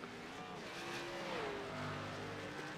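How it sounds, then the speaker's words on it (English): A race car on the racetrack at Watkins Glen passes with a rising and falling engine whine over a steady wash of track noise, heard at moderate distance. "Got a car coming on the racetrack with no nose on it."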